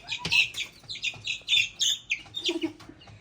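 Chicks and chickens in a village setting cluck and cheep in a steady run of short, bright calls, close and fairly loud, with no talk over them.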